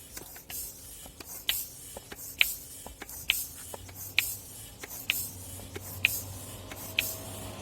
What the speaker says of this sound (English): So using my bicycle pump, I'm just gonna attach it on here